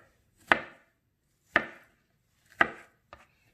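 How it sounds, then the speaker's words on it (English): A knife chops guavas into small pieces on a cutting board, four sharp, close knocks spaced about a second apart, the last one lighter, with near silence between. "So what I'm doing, I'm cutting these up real small"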